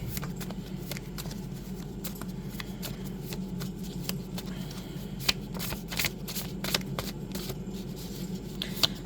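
Tarot cards being shuffled by hand, a steady run of soft riffling clicks and flutters repeating throughout, close and moderately loud over a low room hum, with no talking.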